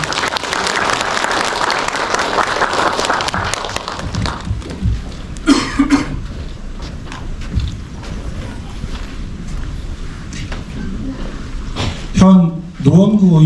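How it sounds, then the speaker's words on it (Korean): Applause from a crowd at a residents' meeting on an apartment reconstruction fills the room for several seconds, then fades into scattered claps, coughs and murmuring, with a louder burst near the end. "힘찬 박수 한번 부탁드립니다."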